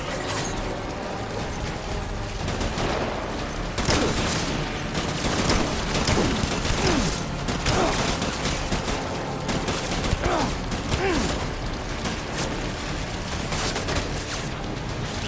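Gunfire in the video game Death Stranding: a dense, continuous barrage of shots and bursts at steady loudness throughout, with brief booms mixed into the clatter.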